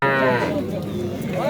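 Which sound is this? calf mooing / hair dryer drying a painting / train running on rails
calf mooing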